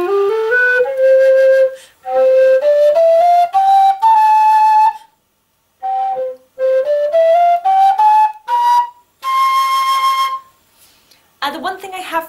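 A custom Celtic low C whistle plays a rising scale of clear, breathy tones in two runs, each climbing step by step with short gaps between, ending on sustained higher notes; close and fairly loud, no voices.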